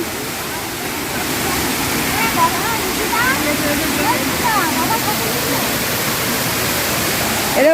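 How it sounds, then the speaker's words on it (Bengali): Bamni Falls pours down from high above in a loud, steady broadband roar of falling water. It fills the whole clip close up, with faint voices under it. "বামনি ফলস ওই উপর থেকেও পড়ছে ওখান থেকে এখান থেকে বিশাল জোরে আওয়াজ"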